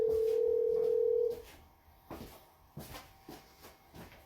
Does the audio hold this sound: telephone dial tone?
yes